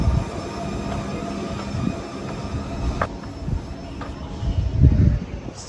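A train on the Jakarta–Bandung rail line moves past a station platform with a loud, continuous rumble, rising and falling as the cars roll by, a few clanks and a faint high whine over it.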